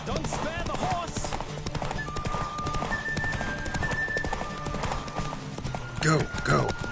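Hoofbeats of a galloping horse in The Witcher video game, a steady clip-clop rhythm with a whinny near the end, loud and close under game voices and music.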